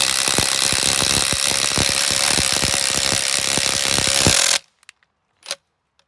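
An impact wrench hammers rapidly and loudly as it draws bushings into a Polaris Ranger XP 1000 control arm using old control arm bolts, a wrench and a washer, then stops abruptly, followed by a few faint clinks.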